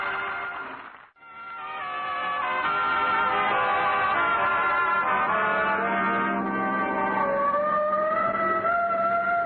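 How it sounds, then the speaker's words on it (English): A car-mounted siren wails loud and close, a steady pitched tone that drops out briefly near the start, then returns and holds with slowly shifting, rising pitch for the rest of the clip. "Oh, the siren. No, that's on our car."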